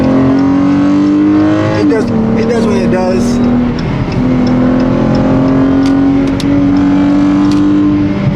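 A 2019 Dodge Challenger SXT drones steadily from inside the cabin while driving, its engine tone holding and shifting as it pulls, with someone talking over it throughout.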